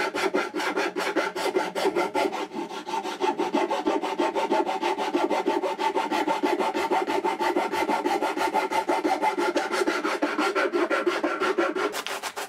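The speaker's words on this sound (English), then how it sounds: "I refine the curve further with a finer file" Finer file smoothing a curve in reclaimed wood for a serving tray, steady rapid rasping strokes in an even rhythm, close and moderately loud, with no voices.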